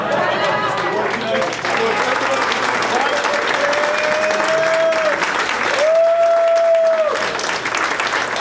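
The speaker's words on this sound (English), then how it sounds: "So I want to tell them that I got a standing ovation." A standing ovation at a hall of fame induction ceremony, loud sustained clapping from a crowd with a few voices calling out and some cheering mixed in.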